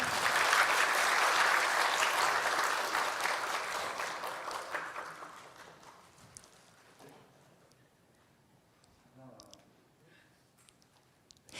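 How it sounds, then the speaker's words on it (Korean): Loud applause from a congregation at a church anniversary thanksgiving service fills the first half, then fades into quieter room noise with a few scattered claps and small sounds. "박수 부탁드립니다"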